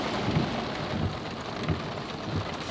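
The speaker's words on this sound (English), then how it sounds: "that is heavy rain" Heavy rain pours steadily outdoors near a VW California campervan in Ballycastle, County Antrim, a dense, unbroken hiss with no voices.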